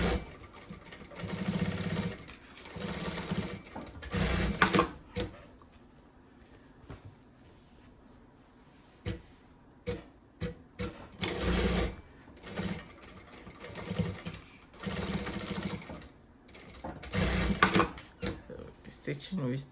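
A Jack A5A sewing machine stitches in several short, loud bursts close by, with a voice talking in the pauses between runs.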